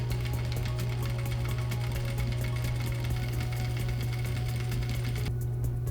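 A sewing machine runs steadily, stitching a patch pocket onto fabric with a continuous close-up mechanical whir and rapid needle chatter, and no talking over it.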